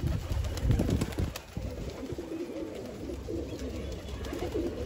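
Low, soft pigeon cooing murmurs close by in a steady rolling rhythm, with some rustling and clicks at the start.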